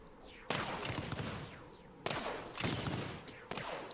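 Blast cannon turrets fire in the tower defense game Axon TD: Uprising, sharp loud booming blasts at irregular intervals, each followed by crackling, rumbling decay, with no talking.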